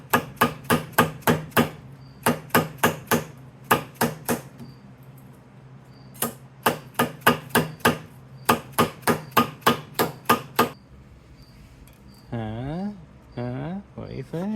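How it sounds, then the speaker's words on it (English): Sharp metal hammer strikes on homemade exhaust gaskets come in quick bursts of four to six blows separated by short pauses, loud and close, followed by someone talking at the end. "Nothing a little hammer can't fix."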